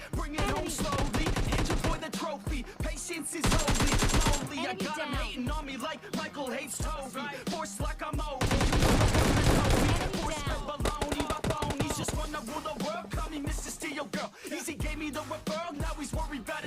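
Dense, loud automatic gunfire rattles in the PUBG Lite video game, rapid bursts of shots with short gaps and a few single cracks, heavy and continuous throughout.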